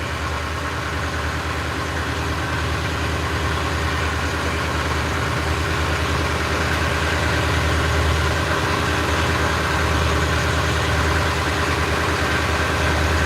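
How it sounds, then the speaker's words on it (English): A small but loud boat engine trolling at normal RPMs for king salmon on a rough Alaskan sea, a steady throbbing drone that stays constant and loud throughout, with no voices. "We're trolling at normal RPMs and we're only doing 2 knots"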